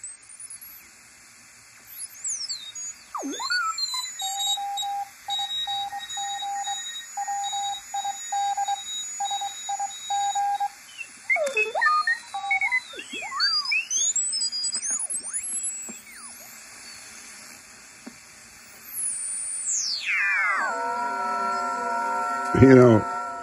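Morse code CW signals on a direct conversion radio receiver: clipped tone keying in rhythmic bursts, with sliding whistles and heterodyne tones as the tuning sweeps across a busy band.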